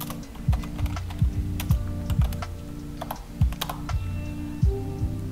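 Typing on a computer keyboard while entering a command to install the Go language, a steady run of close, crisp key clicks with no talk.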